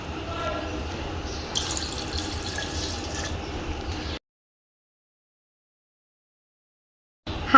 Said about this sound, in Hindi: अब इसमें हम थोड़ा सा पानी ऐड करेंगे।